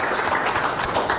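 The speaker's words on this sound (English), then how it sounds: "I think we can have a round of applause for our panelists." A conference audience claps for panelists at a plenary session, a short dense burst of applause from many hands, fairly loud and even throughout.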